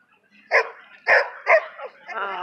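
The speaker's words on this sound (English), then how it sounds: "Oh, barking dogs." Several sharp dog barks ring out in quick succession, three or four distinct yelps with brief pauses between them.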